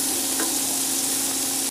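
Coarsely chopped onions sizzling in a hot pan for a chicken stroganoff, a steady close hiss of frying with no talk, ending in a short sharp clatter.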